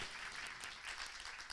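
Audience giving Maura a round of applause at a live talk, a faint, distant wash of clapping over a brief moment.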